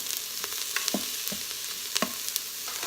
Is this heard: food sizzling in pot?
yes